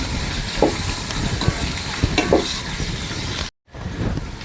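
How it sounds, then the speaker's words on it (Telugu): Raw washed chicken tipped into a pot over a village wood-fired stove for chicken biryani, then stirred, giving a steady sizzle with scraping stir strokes and clatter, close and fairly loud, briefly cutting out near the end. "కడిగి శుభ్రం చేసి పెట్టుకున్న చికెన్ అయితే వేసేసుకుందాం వేసి ఒకసారి బాగా కలుపుకుందాం"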